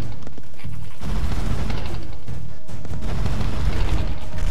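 Gunfire in the video game Broforce: dense, continuous volleys of rapid game shots and booming blasts, loud and close, running almost nonstop through the clip.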